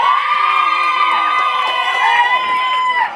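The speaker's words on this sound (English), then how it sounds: "if I can get all the Bosley people who are in the crowd to give a big cheer for Nicholas." A crowd at a Relay For Life charity event in Sydney gives a loud, sustained cheer for a participant named Nicholas, many voices shouting and whooping together, children's shrieks mixed in, continuous and close.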